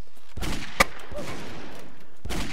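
Gunfire from the Rotpython weapon in the video game Brick Force: a few sharp, loud shots ring out over a busy game background, with a brief lull between bursts.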